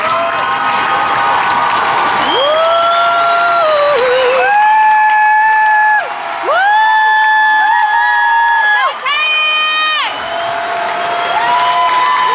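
Crowd at a graduation ceremony applauding and cheering loudly and continuously, with whoops and shouts rising over the clapping.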